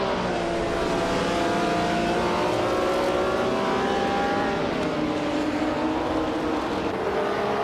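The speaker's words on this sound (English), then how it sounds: "Ebony Shadow is racing a 1966 Porsche 906, a classic vintage ultralight" A 1966 Porsche 906 vintage ultralight race car races with other vintage Porsches, its engine a steady, loud, high-pitched droning whine with rising and falling pitch throughout.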